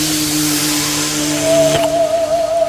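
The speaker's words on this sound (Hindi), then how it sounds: "देखा कि पीछे से एक गाड़ी चली गई" A car passing from behind on a highway at night, a steady engine hum joined midway by a rising whine that holds to the end, loud and close, with no talking.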